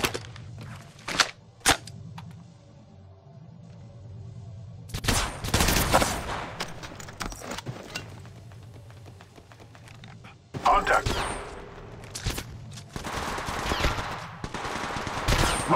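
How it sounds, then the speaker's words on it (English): Gunshots fired in the Apex Legends battle royale game come in sharp isolated cracks and then dense bursts of rapid fire, loud and close, with a player's voice and game audio running underneath. "I'm taking the shot."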